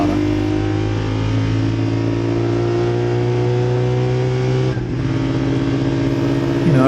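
A restricted race car engine at Phillip Island, limited to 7,500 rpm and about 650 rear-wheel horsepower, drones loud and steady at near-constant revs, with a brief dip near the end before it pulls on.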